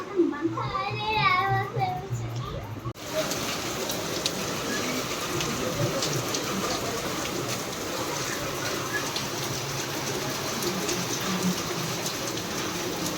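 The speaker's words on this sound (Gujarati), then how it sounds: "એકદમ ઠંડો પવન છે અને સરસ વરસાદ છે." Steady rain with cold wind outdoors, a broad hiss of falling drops running throughout, while children and adults talk over it near the start.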